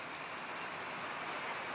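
Heavy rain pouring down around Tawang in Arunachal Pradesh: a dense, steady broadband hiss that holds evenly throughout, with no voices.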